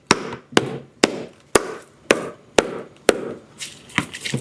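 A mallet strikes a freshly glued shoe sole in about nine sharp, evenly spaced taps roughly half a second apart, close and clear, with no talking.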